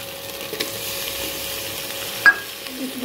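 Masala and tomatoes frying in a pan give a steady, soft sizzle and hiss, with faint stirring scrapes and one brief sharp clink near the end.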